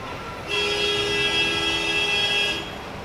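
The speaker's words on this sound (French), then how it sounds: "ça klaxonne tout le temps ici" A steady horn tone sounds for about two seconds on a city street beside a hotel terrace, loud and continuous with faint traffic hum before and after.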